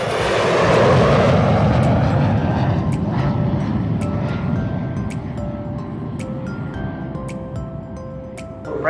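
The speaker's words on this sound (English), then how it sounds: "jets thundering," Loud, thundering jet aircraft roar from an air-raid sound effect display at a transport museum, a heavy rumble sweeping through and slowly easing, with faint tonal sirens and sharp blasts scattered over it.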